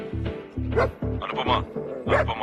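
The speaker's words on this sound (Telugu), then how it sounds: "ఇక్కడ ఒక కుక్క ఉంది సార్" A dog barks repeatedly in quick, close, loud bursts, around six sharp barks in rapid rhythm, with a person's voice faintly mixed in.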